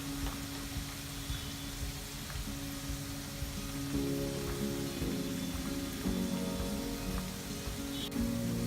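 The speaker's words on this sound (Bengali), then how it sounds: "এক পাশ ব্রাউন হয়ে গেলে অপর পাশও একইভাবে ভেজে নেব।" Egg and semolina pakoras deep frying in oil, a soft, even bubbling hiss like light rain that holds steady throughout, fairly quiet and with no talk.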